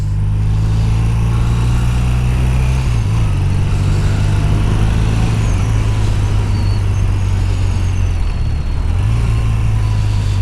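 A 41-year-old BMW R100CS airhead motorcycle engine running after the choke is taken off, a loud, close, steady idle drone whose pitch dips and rises a few times, with no talking.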